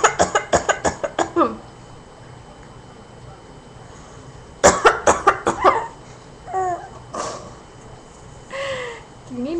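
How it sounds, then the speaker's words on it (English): A woman gives two bursts of rapid, loud coughs, each a run of sharp hacks, followed by a baby's higher babbling and laughing sounds in the quieter gaps. "Why are you laughing at Mommy's coughing?"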